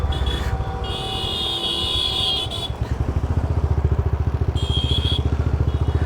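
A Royal Enfield Bullet Classic 350 motorcycle is ridden, its engine a loud, steady, pulsing thump heard up close, with intermittent high whining tones riding over the rhythmic exhaust beat.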